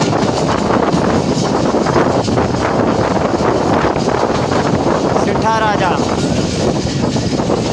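Steady roar of a 48 Down passenger train running at speed between Rohri and Karachi, with dense rumbling and rattling, heavy wind buffeting and a short squealing sweep near the end.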